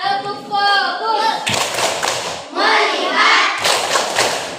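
A classroom of children claps along in a rhythmic 'tepuk fokus' routine, bursts of hand claps and thumps alternating with the kids chanting in unison, close and lively.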